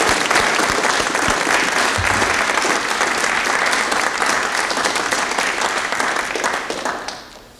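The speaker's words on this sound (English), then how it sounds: "just give you all a round of applause for the tremendous amount of work and dedication you put in." At a political science colloquium, an audience applauds transfer students with loud, sustained clapping that gradually fades out over the last second.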